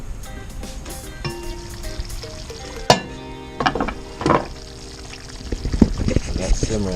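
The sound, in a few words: ox tails simmering on a Big Green Egg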